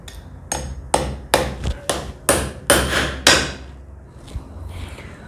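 A hammer taps an anchor fastener pin through a nut in about eight sharp metallic blows at an uneven, quickening pace, close and loud, then a couple of faint knocks follow.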